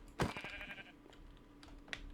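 A sheep bleats once, close and brief, from a sheep spawner in Minecraft, followed by a few faint soft clicks like keyboard typing against a quiet background hum.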